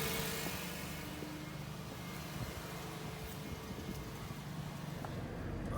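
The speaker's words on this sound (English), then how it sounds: "Idle is going down." A car engine idles after an intake gasket change, a steady, moderately quiet low hum that runs evenly without revving, with no talk over it.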